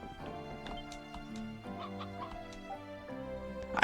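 A chicken in the Ys Celceta video game clucks repeatedly in short, choppy bursts, fairly close and steady, over a soft continuous tonal background.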